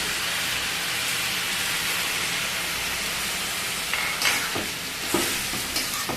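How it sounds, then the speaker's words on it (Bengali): Banana curry with sesame paste sizzles steadily in a pan while it is stirred. Close, constant frying hiss is broken by a few scraping strokes of the spoon near the end. "বাড়িটাকে ভালো করে নেড়ে চেড়ে মিশিয়ে নেব"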